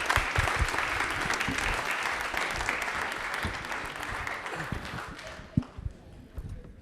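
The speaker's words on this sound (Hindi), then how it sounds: "तालियां एक बार जोरदार हो जाए" Studio audience applause for a quiz contestant on a Rajasthan television quiz show, a loud, thick burst of many hands clapping that thins out toward the end, leaving a few scattered claps and faint stray voices.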